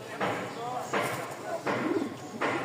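Pigeons kept for sale coo in soft, repeated bursts about every second, fairly close, while people talk nearby.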